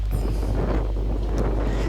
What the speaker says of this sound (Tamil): இங்கே வந்ததுக்கப்புறம் காற்று செம்ம காற்று அடித்தது பயங்கரமான காற்று